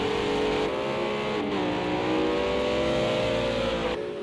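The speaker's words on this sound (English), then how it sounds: "We can just hear the Bentley every now and then as well." A Bentley GT3 race car engine in a sim racing game at Oulton Park, loud and continuous, revving up and down with gear shifts and climbing pitch.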